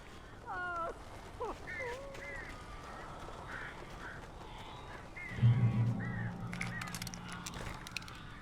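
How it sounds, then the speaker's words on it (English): Crows cawing in the game Alan Wake, several harsh calls near the start, then a quieter stretch with low ambient rumble and a brief louder low burst, no talk. "These birds are weird."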